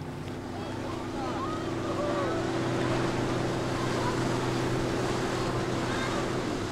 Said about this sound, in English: Several boats at once try to attract Fungie their way.